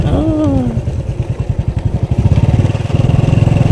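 A motor vehicle drives along a road, its engine up close with a fast, steady pulsing throb that grows slightly stronger toward the end.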